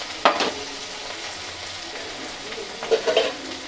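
Cumin, ginger, green chili and onion sizzle softly in a pan for a Punjabi-style dry bottle gourd dish, a close, low frying hiss with a couple of brief stirring scrapes.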